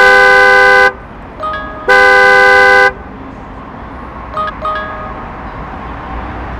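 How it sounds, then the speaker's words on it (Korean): Genesis G80 car horn triggered remotely through a smartphone digital key, two loud sustained blasts about a second each separated by a pause, followed by faint beeps, close outdoors. "경적을 키고 끄는 기능이 있습니다"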